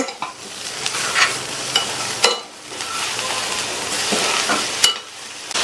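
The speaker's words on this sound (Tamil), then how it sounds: "கட் பண்ணி வச்ச பீர்க்கங்காயை சேர்த்துக்கலாம் சேர்த்துட்டு நல்லா மிக்ஸ் பண்ணி விட்டுருங்க" Chopped ridge gourd sautéed and stirred in a hot pan, giving a steady sizzle broken by repeated scraping strokes of the spoon, fairly loud and close with no talking.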